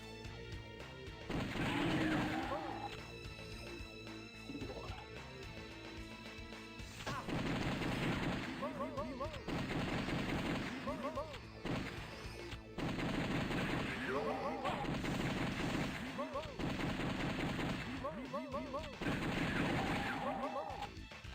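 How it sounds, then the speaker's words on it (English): Repeated bursts of rapid gunfire from zombie enemies in a Japanese Sega Saturn game, loud and dense, arriving in several separate volleys over a busy game soundtrack. "There's a bunch of zombies shooting at me and eating people."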